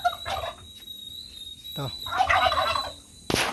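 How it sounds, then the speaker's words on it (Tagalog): Turkeys gobble loudly in rapid rattling bursts, close by, with a brief word spoken between calls. "update tayo sa may mga pabo natin"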